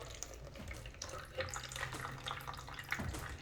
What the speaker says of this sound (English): the machine needs to be able to drain. So now you let it drain